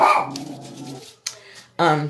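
A small dog barks in short, high-pitched bursts, close by, with a brief pause between yaps.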